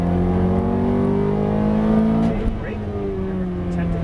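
Ferrari F430 engine under light throttle on a race track, a loud close droning note that slides downward in pitch, with a brief shift in tone midway and a voice speaking over it.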